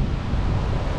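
Strong storm-driven sea waves pounding a beach, a loud, dense, continuous roar of surf with heavy rumble and wind buffeting the microphone, steady throughout with no voices.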